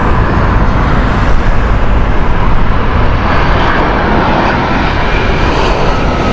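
A British Airways Boeing 787 arriving at Heathrow Airport on a windy morning, its jet engines roaring as a loud, steady broadband rumble throughout.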